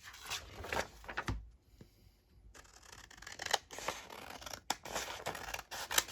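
Scissors snipping through cardstock while making journal cards: a quiet series of sharp, uneven cuts and scrapes close by, with a brief near-silent pause partway through.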